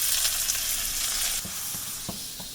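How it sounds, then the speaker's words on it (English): Loud, hissing sizzle from a very hot pot while cooking meatball coconut curry with garlic and onions, a steady frying crackle with a few soft stirring knocks near the end. "And you wanna hear that sizzle."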